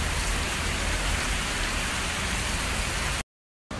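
Heavy rain pouring down in a steady, dense hiss of drops striking surfaces, loud and close, cutting off abruptly near the end with a moment of silence.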